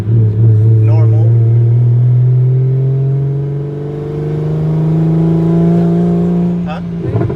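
A BMW 335xi with an N54 engine and a big single turbo drives along, its engine note climbing steadily through the gears in loud, close rising drones, dipping once in the middle before pulling again.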